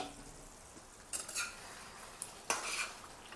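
Dum aloo potatoes stirred in a pot over a gas flame, with a couple of brief metal spoon scrapes against the pot and a soft clink on an otherwise quiet background.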